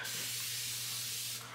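A small bottle of fragrance sprays in one continuous hiss lasting over a second, close and steady, with a low hum underneath and no talking.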